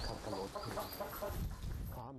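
Home-raised chickens clucking close by in a brief burst, with a narrator speaking over the birds.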